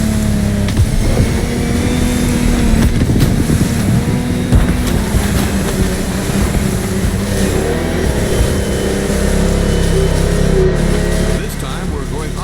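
Loud, droning engine roar of large offshore motorboats racing in the video game The Crew Motorfest, with revving pitch shifts and wind-like rush, plus a voice speaking over it.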